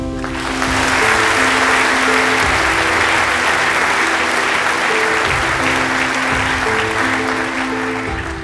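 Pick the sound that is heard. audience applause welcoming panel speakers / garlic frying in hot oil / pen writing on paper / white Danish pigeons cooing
audience applause welcoming panel speakers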